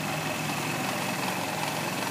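A 2008 Lance Vintage 150cc scooter idling just after starting, a steady close engine drone with even vibration and no talk over it.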